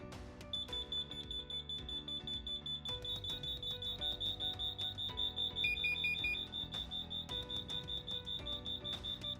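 LINKD interlinked smoke, heat and carbon monoxide alarms sound together during a test, giving a steady high-pitched rapid beeping pattern that repeats without a break, moderately loud, with no voices.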